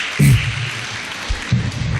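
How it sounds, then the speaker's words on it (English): Applause from an audience at a talk on artificial intelligence for women in STEM, a steady wash of clapping that holds through the whole stretch with a low thump or two beneath it and no one speaking. "That's our applause"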